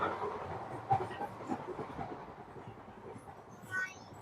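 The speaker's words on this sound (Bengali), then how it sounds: "আর এই ট্রেনটা অনেক বেশি কাঁপতেছে" An older train carriage shakes and rattles while moving at speed, a faint, continuous rumble with irregular clanks and knocks heard from inside the coach.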